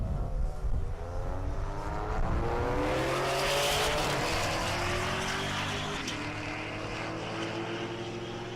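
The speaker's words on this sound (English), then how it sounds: "The Camaro trying to roll in the Grand Prix here." A Chevrolet Camaro drag race car at a dragstrip in Great Bend, Kansas, its engine roaring loud and close, swelling in pitch and then fading as it pulls away, with no talk.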